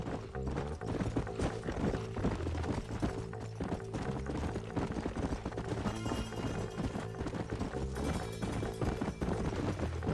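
Horse hooves clip-clop steadily in the Western video game Red Dead Redemption, a continuous trotting rhythm running under a loud game music bed, with an occasional whinny.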